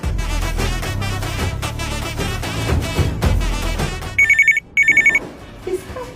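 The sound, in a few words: telephone ringing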